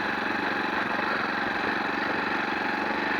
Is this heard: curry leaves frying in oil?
no